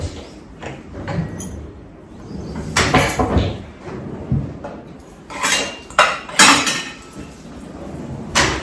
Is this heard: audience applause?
no